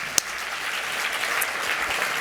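An audience at a semiconductor industry award dinner applauds the winners, a steady, broad wash of many hands clapping at moderate distance, with one sharp click near the start.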